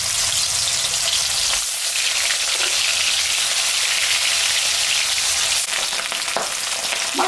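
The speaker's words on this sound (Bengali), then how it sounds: "তেল গরম হয়ে গেছে, মাছটা ভাজবো।" Small fish fry in hot oil in a wok, producing a loud, dense, continuous sizzle that stays close and unbroken, with a few brief surges in intensity.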